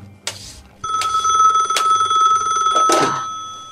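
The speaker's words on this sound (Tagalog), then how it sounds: "Telepono. Disturbo." A telephone rings loudly and close by with a steady electronic tone, sounding continuously for a few seconds, with short bursts of other noise mixed in.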